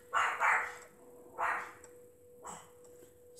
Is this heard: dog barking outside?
yes